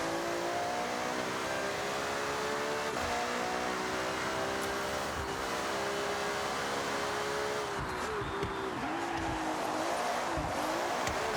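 A Ferrari F80 hypercar in Forza Horizon 6 revs hard, its engine note climbing and dropping in steady waves while the tires slide and squeal, loud and continuous with no talking.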